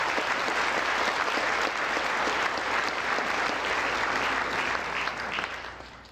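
A large crowd at a national prayer breakfast claps warmly and continuously, a thick, even wash of applause that holds steady, then thins and fades toward the end.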